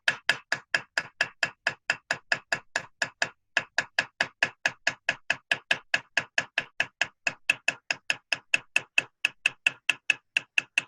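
Steady metal-on-metal tapping of a hammer striking a chasing chisel in chasing and repoussé work, about five even blows per second for the whole stretch with one brief pause, close and crisp with no talk.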